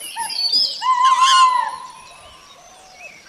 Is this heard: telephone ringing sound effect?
no